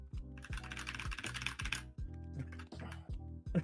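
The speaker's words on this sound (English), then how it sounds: "The fucking keyboard just now." Computer keys clatter in quick, uneven bursts of typing, close and fairly loud, without any talk over them.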